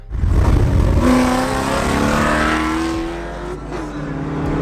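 An LS-swapped drift car's V8 engine roars to life close by, a loud growling rev that rises, holds and eases back, then builds again toward the end.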